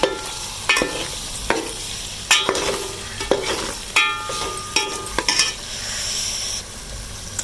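Masala for Pakistani dal gosht sizzles in a pan under repeated spatula stirring, with sharp metallic scrapes and clanks against a continuous close frying hiss.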